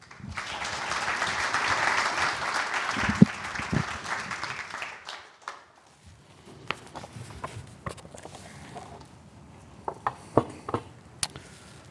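An audience claps steadily in a hall to welcome a speaker at a church event. The applause is loud at first, then fades out and gives way to scattered footsteps and knocks.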